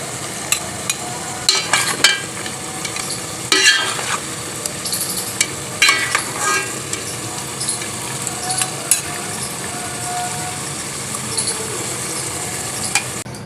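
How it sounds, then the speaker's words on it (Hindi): Taro root (arvi) sizzles and fries in hot oil while being stirred, with steady crackling sizzle punctuated by frequent scraping and clinking stirs of a utensil against the pan, close and fairly loud with no talking. "अच्छी तरह हम इसको फ्राई कर लेंगे।"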